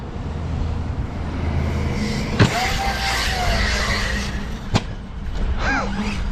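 Arrma Kraton or Notorious radio-controlled car driving, a steady electric motor whine with sharp bumps and skids, close and loud throughout with no talking.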